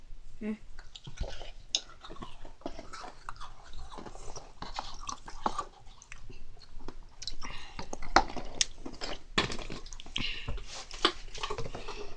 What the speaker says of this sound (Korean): 남은 면발을 먹어보도록 하겠습니다